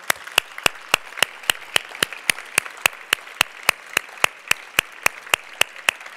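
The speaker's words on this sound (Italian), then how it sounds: "Chiedo un applauso per Franco Battiato." Steady, evenly spaced clapping at a cultural festival event honoring an artist, crisp claps in a regular rhythm at moderate loudness with no talk over them.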